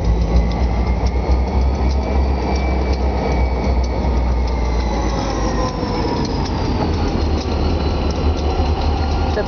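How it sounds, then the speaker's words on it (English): Train on the Berkshire Hills route rumbling steadily close by, with faint rhythmic clicking and metallic wheel squeal drifting over a continuous loud rail roar, no voices. "You hear the clicking sound from the engine?"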